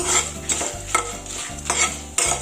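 Spices and fenugreek fry in oil for a coastal-style chicken gravy, with bursts of crackling sizzle and repeated spoon scrapes in a stirring rhythm over a low steady musical hum.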